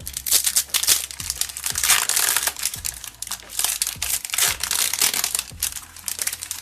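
A LEGO Ninjago foil packet is torn and crinkled open, giving continuous close, loud crackling and rustling with bursts of crunchy plastic noise throughout, with no talk.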